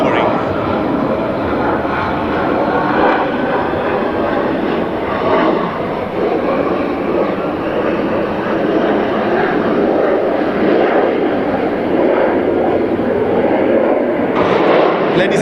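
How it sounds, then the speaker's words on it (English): A Harrier jet hovers nearby at an air show, its Pegasus engine a loud, steady, roaring whine that fills the whole span, with a commentator talking over it. "Here you can hear the Pegasus engine coming nearby our position and showing this beautiful Harrier hovering."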